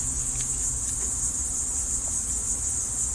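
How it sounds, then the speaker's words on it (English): Bees from a recently moved-in swarm drone inside an open hive box, an even, close buzzing layered with a shrill insect trill throughout. "Oh, beautiful bees."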